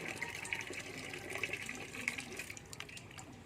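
Water runs steadily from an outdoor tap as a container is filled for watering orchids and other garden plants. The flow is a continuous, fairly close hiss-like rush with no talking.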